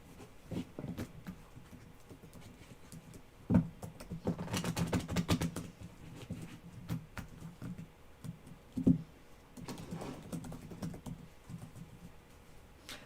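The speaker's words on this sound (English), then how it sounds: "Are you typing them in?" Intermittent keyboard typing, close and fairly quiet, comes in short bursts of clicky keystrokes separated by pauses, with a few louder thumps mixed in.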